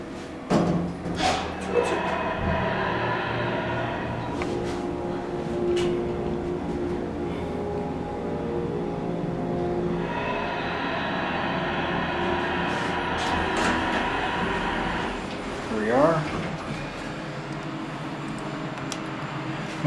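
Hydraulic elevator at the Hilton hotel in Niagara Falls, heard as a steady mechanical hum and rumble with a few clunks at the start and a brief rising tone near the end.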